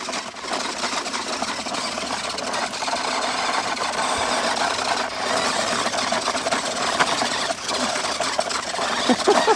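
A Redcat Danchee RC car drives in four-wheel steer mode, its electric motor whining with a continuous high buzz and some squealing, its pitch and loudness shifting as it maneuvers.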